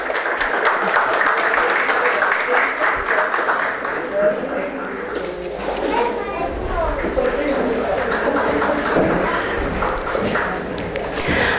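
Applause for an honoree at a special session of the Criciúma Municipal Chamber, steady clapping mixed with thumps and footsteps from a crowd in a hall, with voices murmuring throughout.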